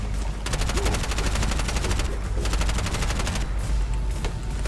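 Rapid automatic gunfire from the video game Bright Memory: Infinite rattles in long, dense bursts over a constant roar of combat noise, loud and continuous throughout.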